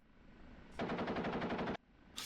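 The gun on an OH-58D helicopter in DCS fires one rapid, steady burst of about a second with evenly spaced rounds, cutting off abruptly against a quiet background.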